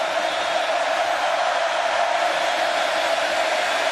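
A stadium crowd at the 2018 Clemson vs Texas A&M college football game, a loud, steady wall of roaring noise from a packed venue with no distinct breaks.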